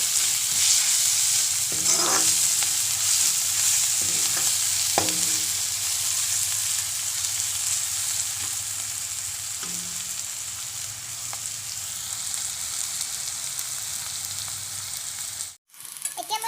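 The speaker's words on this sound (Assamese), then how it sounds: "এতিয়া দি দিলোঁ মই আদা নহৰু পেষ্ট এতিয়া এনেদৰে অলপ ভাজি ল'ম" Steady sizzling of paste frying in a hot pan, with occasional scrapes and stirring taps, fairly close and continuous.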